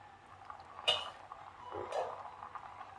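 A cooking pot of mango pulissery being opened and handled in a kitchen, with two soft metallic clinks of lid and pot about a second apart, followed by quiet rustling and bubbling.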